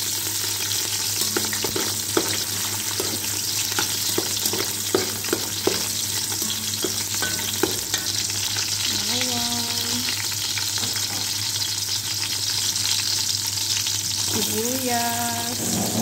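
Garlic frying in olive oil for pancit canton with bihon, a dense, steady sizzle with scattered spatter pops and a few light clinks, close and loud, with no speech.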